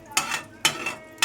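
A spoon stirs mustard seeds quickly in a hot pan, with three sharp scraping strokes in a quick, even rhythm, close and distinct over quiet.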